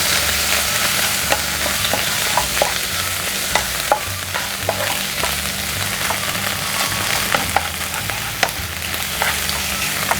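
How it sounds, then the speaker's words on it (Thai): Shrimp stir-frying with tom yum paste and roasted chili paste in a hot pan, a steady close sizzle broken by regular scrapes and clinks of the spatula, with no talking. "ค่อยๆผัดนะคะตามด้วยพริกเผาค่ะเอาไปผัดให้มันเข้ากับกุ้งก่อนนะคะ"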